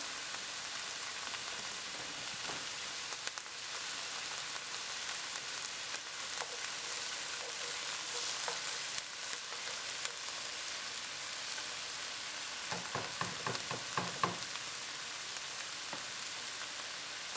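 Vegetables fry in a pan with a soft, even hiss that runs throughout, broken now and then by faint clicks and a brief burst of stirring scrapes near the end, with no one talking.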